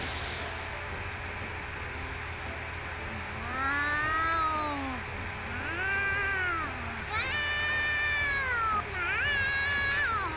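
Several drawn-out, rising and falling meows from cat girls in the video game Nekopara Vol. 0, some overlapping like a quarrel, over a steady background hum.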